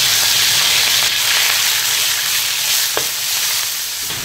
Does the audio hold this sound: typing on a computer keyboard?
no